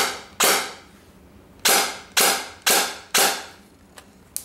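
An Ares G36 airsoft rifle with new steel spring guide legs fired on semi-auto, six sharp, loud single shots at uneven intervals, each with a short decaying tail, followed by faint mechanical clicks.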